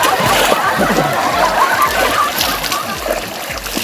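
People jump into a swimming pool built on a tractor trailer, with water splashing and sloshing steadily and loudly throughout and voices faintly mixed in.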